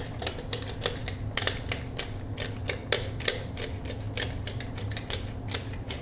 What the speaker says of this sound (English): I kind of hate this pepper grinder right now.